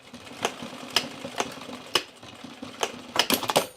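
A domestic sewing machine without zigzag stitches a mock bar tack on jeans, quiet bursts of needle clatter with sharp clicks spaced about half a second apart, close and fairly soft.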